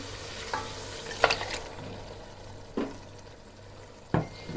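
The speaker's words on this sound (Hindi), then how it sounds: "इस गोश्त को इस मसाले के साथ थोड़ी देर के लिए भूनूंगी" Meat cooking in masala in a pot, a soft continuous sizzle underneath with a few sharp clanks and scrapes of a spoon stirring at scattered moments, close and fairly quiet, no talking.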